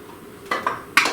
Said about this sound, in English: now we are going to add in our other can of the whole artichoke hearts that we haven't sliced up